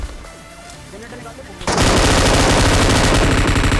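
An M249 machine gun fires in a battle royale video game, starting with quieter game sounds and then a loud, sustained burst of rapid automatic fire that continues to the end.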